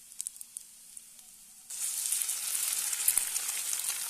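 Maggi noodles fry and are stirred in a pan. Quiet scraping ticks come first, then a loud, steady hiss of sizzling oil starts suddenly and continues, close up.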